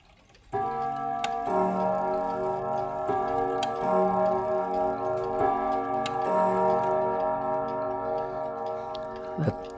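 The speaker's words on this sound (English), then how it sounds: "It's a pretty rare clock, but here I can show you what it sounds like." A rare clock in need of repair ticks steadily and loudly up close, each beat sharp and evenly spaced over a sustained ringing tone, with no voices.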